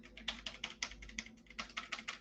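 Typing on a clicky mechanical keyboard: fast, irregular runs of sharp key clicks, close and fairly quiet, heard alone.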